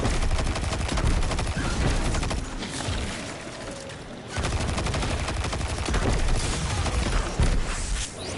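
Gunfire in the video game Destiny 2: loud, continuous automatic bursts and overlapping shots. The volume briefly dips around the middle before the heavy firing resumes.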